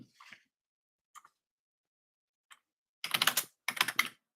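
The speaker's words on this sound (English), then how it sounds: "I'm typing, I can't talk." Keys on a computer keyboard clatter in sparse taps at first, then two dense, fast bursts of close typing, with no voices.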